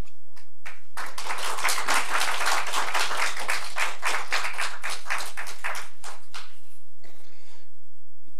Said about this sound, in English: You guys shouldn't be clapping yet.